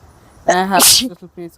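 A person sneezes once, loud and close, during a tomato tasting. Speech comes just before and just after the sneeze.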